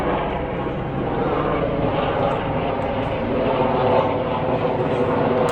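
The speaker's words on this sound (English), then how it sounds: "Helicopters flying over." A steady helicopter drone overhead, a continuous low rumble that holds at a constant moderate level throughout.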